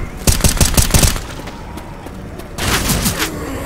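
Rapid bursts of gunfire from Left 4 Dead 2, with a loud volley of shots in the first second, a quieter gap, then another sustained burst near the end.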